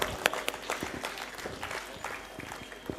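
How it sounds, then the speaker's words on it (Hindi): Audience at a school prize-giving ceremony for a storytelling competition clapping steadily, a dense, sustained round of applause with sharper individual claps standing out near the front, no talk over it. "जोरदार तालियां बजाइए अमजद साहब के लिए"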